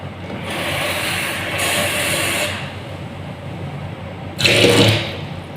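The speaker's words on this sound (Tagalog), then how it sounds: "maglagay naman tayo ng tubig dito" Water splashes and trickles in short bursts as about 15 ml is poured while making vegetable porridge, with a louder gush near the end, close by and without talk.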